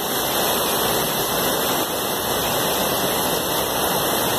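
Floodwater from heavy rain rushes down a city avenue in Campina Grande, a loud, steady broadband roar with no pauses throughout.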